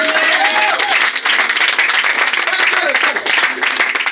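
A church congregation claps and cheers loudly for Jesus, a dense sustained roar of applause with voices calling out over it, close and full throughout.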